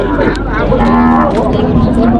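A cow at a cattle market lets out one loud, close, sustained moo that fills the whole moment, with faint crowd noise beneath.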